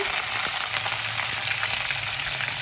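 Long-sliced onions with green chilies fry in hot oil for a potato masala, producing a continuous, even hiss of sizzling.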